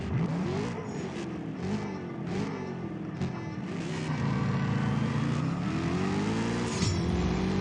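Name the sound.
car engine downshifting in CSR2 racing video game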